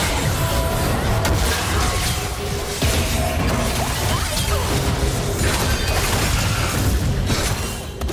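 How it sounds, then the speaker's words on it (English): A League of Legends turret collapses in a dense, loud wash of crashing, shattering impacts and whooshing effects during a Fiora versus Renekton top-lane match. The destruction noise runs continuously for several seconds with little pause. "Blue team's turret has been destroyed."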